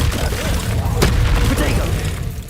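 Confringo explosive spell blasts from Hogwarts Legacy combat, a dense, continuous rumble of booming bursts with a sharp crack near the middle, layered under a voice calling out spell names.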